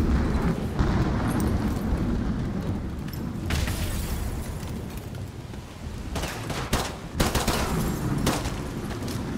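Rapid pistol gunfire in the Modern Warfare 2 Remastered campaign, loud and close, with repeated sharp shots and booming impacts crowding the whole stretch, heaviest in bursts near the middle and end.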